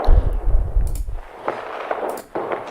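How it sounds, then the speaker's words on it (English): A few sharp AR-15 rifle shots ring out, each followed by echoing reflections and rumbling reverb that trail off between blasts. "record like reverb and reflection sounds of gunfire"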